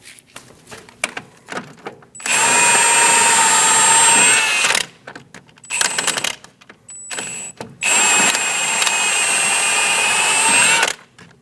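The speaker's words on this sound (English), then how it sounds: "Remove the bottom bolt." A power tool, likely an impact gun, removes the lower strut bolt on a 2008-2015 Scion xB front suspension, running in two loud sustained bursts of about two and a half and three seconds, with clattering handling noises between them.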